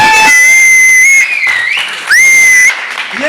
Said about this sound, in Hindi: जोरदार तालियां, खड़े हो गए।